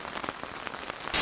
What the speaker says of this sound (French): parce qu'il pleut et on va être mouillé